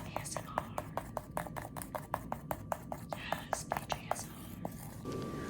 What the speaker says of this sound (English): we just stir.